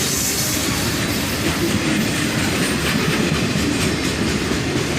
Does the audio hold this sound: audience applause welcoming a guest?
no